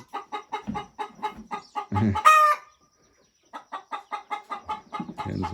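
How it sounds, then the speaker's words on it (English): Hens cluck in quick repeated bursts around a market garden compost area, with a rooster crowing loudly partway through, then a short pause before the steady clucking resumes. "hens are making this noisy"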